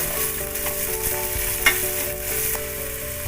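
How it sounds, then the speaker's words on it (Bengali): Chopped onion with a pinch of salt sizzles in white cooking oil, a steady close frying hiss broken by a single sharp stirring knock; no talking. "পুরো রান্নাটা আমি সাদা তেলে করছি এতে একটু নুন দিয়ে দিলাম এবারে এটা একটু ভেজে নেব"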